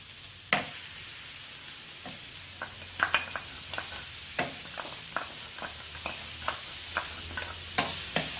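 Mixed vegetables stir-fry in a pan with spring onion and ginger-garlic paste, a constant close sizzle punctuated by irregular scrapes and taps of the spatula against the pan, with no voices.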